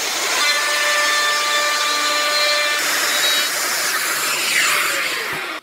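A handheld power tool cuts a trench through wood, a loud, steady high-pitched whine with a brief shift in pitch partway through, then it winds down at the end, with no talking.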